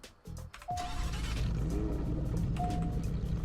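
A fictional turbocharged V10 car in the Roblox game Greenville starts up and settles into a loud, close, steady engine roar with light revving, and no one speaks.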